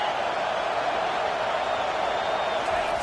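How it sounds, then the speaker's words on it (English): Stadium crowd in a college football video game, a steady, dense roar of noise throughout with no breaks. "Listen to this crowd just shaking the girders of this place, trying to help their defense."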